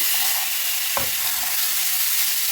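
Pork belly renders its own fat in a dry pan with no oil, hissing in a constant close sizzle, with one brief knock of a utensil partway through.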